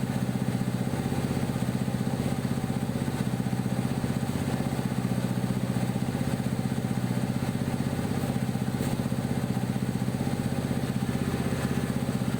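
A pit bike with an upgraded, ported engine and a modified cam idles unevenly after ECU tuning, giving a steady, close, moderately loud putter with slight irregular wavering and no talk over it.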